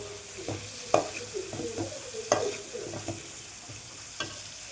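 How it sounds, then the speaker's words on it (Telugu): Rice ingredients frying on a low flame, a gentle continuous sizzle with regular spatula strokes scraping the pan, each stir giving a brief clatter, close and moderately quiet. "కొంచెం మనం స్టవ్ని సిమ్లో పెట్టుకొని ఫ్రై చేయాలి."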